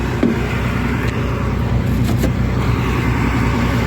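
A tractor pulling a trolley loaded with fresh dates on a date farm, its engine rumbling steadily and loud up close, with faint outdoor activity around.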